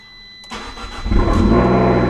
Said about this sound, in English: It's just going to rev up, rev down, shut it off.